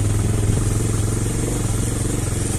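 A new motorbike engine runs at a steady, loud, close idle with a low rumbling throb and faint mechanical clatter throughout, no talk heard.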